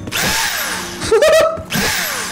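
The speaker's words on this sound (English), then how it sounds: "Power drill?" A power drill in the video game Call of Duty whirs in one short, loud burst with a rising pitch, set against steady game background noise.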